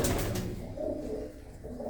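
Large breeding pigeons coo close by, a few low throaty rolling calls overlapping in a short burst, fairly loud and clear.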